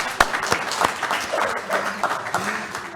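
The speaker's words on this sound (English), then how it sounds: "Go ahead and clap for yourselves." A room of attendees at a New York Cannabis Control Board meeting claps, with sharp individual hand claps cutting through a lively patter while voices chatter over it.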